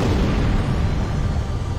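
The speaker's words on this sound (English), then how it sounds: "Explosions!" Video game explosions in Halo, a continuous dense rumbling blast with heavy low-end roar sustained loud throughout, no voices over it.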